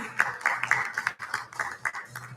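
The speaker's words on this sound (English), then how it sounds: "Can we have a big round of applause for Kalyan, please?" Scattered audience clapping at the TiECon Delhi-NCR 2023 entrepreneur conference as a speaker is called on stage; a small number of hands clap unevenly and fairly close, with a low murmur underneath.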